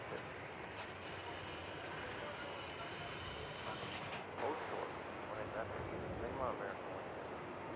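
Airliner landing at DFW Airport after a trans-Pacific flight, a faint steady engine roar that lasts throughout, with a voice talking over it.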